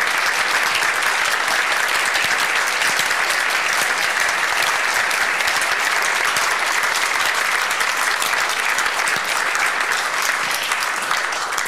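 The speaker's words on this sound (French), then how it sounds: "On peut vraiment à nouveau les applaudir." Loud, steady applause from a large audience at a community anniversary gathering, an unbroken wash of clapping with no voices.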